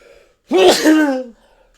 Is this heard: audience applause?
no